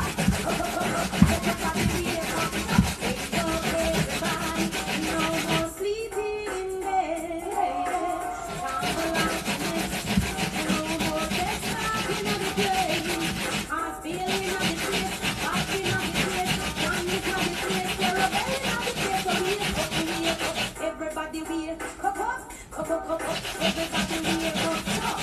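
Sweet potato is rubbed against a grater for Jamaican sweet potato pudding, making a steady scraping rasp that runs almost continuously at close range and stops briefly a few times.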